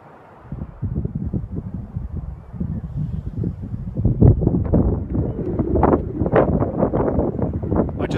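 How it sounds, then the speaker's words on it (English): A big gust of very cold wind buffets the microphone in an open clearing beside woodland, a steady rushing roar that swells louder and gustier in the second half, with no voices. "a big gust of very cold wind hit me"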